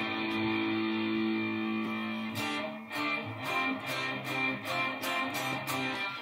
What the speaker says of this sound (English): I will just bypass that one so you can hear the room mix.